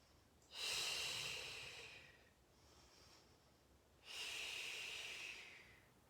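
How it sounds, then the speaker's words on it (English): Slow, deep breathing during a Pilates flow: two long airy breaths, each a few seconds, separated by a quieter pause, close and soft with no talking. "Breathing."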